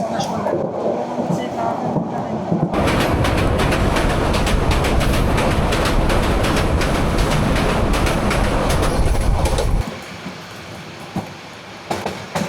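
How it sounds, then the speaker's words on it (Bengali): Mahanagar Provati train rolling into Bhairab railway station, a loud continuous rumble of wheels and carriages that starts abruptly, holds steady, then drops off toward the end. "ট্রেন প্রবেশ করছে ভৈরব রেলওয়ে স্টেশনের দিকে"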